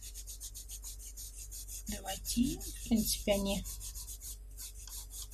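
A Stabilo pastel pencil is being sharpened during a pastel drawing lesson, giving a few seconds of close, scratchy rasping in short strokes. Someone speaks in Russian just before and after the sharpening.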